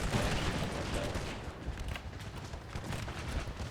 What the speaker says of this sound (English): the cannon fire constantly assists with